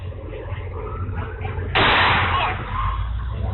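A suspect's gunfire during a shootout with police, a hostage held behind a vehicle in a residential driveway: one loud, sharp broadband burst rings out for under a second over a low, steady background rumble.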